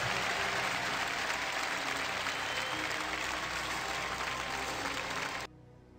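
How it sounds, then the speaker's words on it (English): Loud, sustained applause and cheering from the arena crowd at the Dota 2 International 2014 finals, a dense continuous roar that cuts off abruptly near the end. "A round of applause, of course, for Newbie and Vici. Both played fantastic. Crowd's getting into it."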